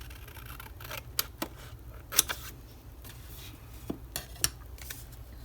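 Scissors cut paper for handmade notebooks, giving a quiet run of sharp snips and clicks at irregular intervals over a low background hum.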